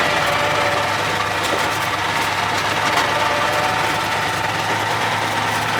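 A Ford LNT 9000 truck with a Cummins 903 engine runs steadily and loudly, its close, continuous diesel drone holding fairly even throughout with a rough, vibrating texture and no talk over it.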